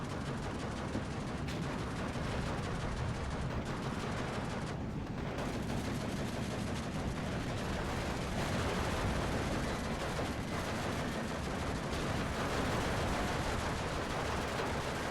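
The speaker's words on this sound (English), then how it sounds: "It's getting shot from that tank over there, maybe." Gunfire rattles through a Steel Division II battle, a dense, continuous wash of distant shots and machine-gun bursts layered under steady combat noise for the whole stretch, with no voices.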